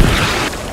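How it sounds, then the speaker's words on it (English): A distant artillery shell bursting in the military shooter game Squad, one deep rumbling boom that decays over under a second, with no voices. "It's artillery over there."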